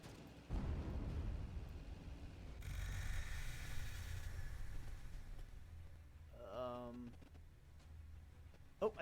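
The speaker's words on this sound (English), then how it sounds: "Oh, I think I just burned my engine." A burned-out vehicle engine in the DieselPunk War game: a low mechanical rumble and sputtering that swell into a loud, explosive burst, followed by a rapid ratcheting clatter and a final sharp pop.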